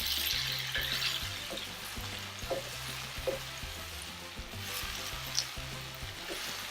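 Okra (lady finger) frying in a pan with browned onions, a steady low sizzle with occasional stirring clinks throughout, close and moderately loud, with no talking.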